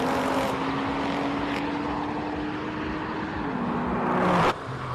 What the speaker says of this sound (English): Feroz Ibrahim firing up in his Porsche